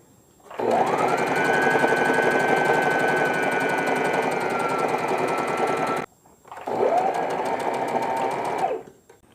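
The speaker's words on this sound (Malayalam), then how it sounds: "ബോ വെക്കാൻ വേണ്ടിയിട്ടുള്ള ക്രോസ് പീസ് സ്റ്റിച്ച് ചെയ്യുകയാണ്." Sewing machine stitching a fabric cross piece for the bow of a newborn frock, a loud steady motor whir running about five seconds, a brief pause, then a second shorter burst of stitching.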